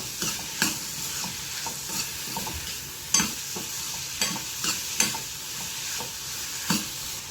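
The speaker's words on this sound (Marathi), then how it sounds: "थोडंसं बीटरूट किसलं आहे ते टाकते मिक्स करून घ्यायचं आपल्याला" Spoon scraping and stirring sautéed capsicum, tomato and grated beetroot in a pan, a steady sizzle underneath with regular soft knocks and scrapes every half second or so, close and moderately loud, no talking.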